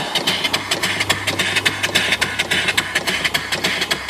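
Off-grid steam engine driving an alternator, running at low speed with a steady, fast rhythmic chuffing beat, close and loud.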